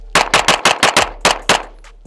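A rapid string of about eight sharp, loud gunshots rings out close by on an outdoor range during a shooting drill, mostly evenly spaced but with a brief pause before the last three, and no voices.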